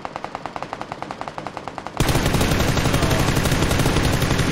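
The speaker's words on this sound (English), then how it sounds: "I shot way too early." Automatic gunfire in PUBG: a quick, evenly spaced string of shots, then a much louder, denser burst that continues to the end. It is heard close and with no talking.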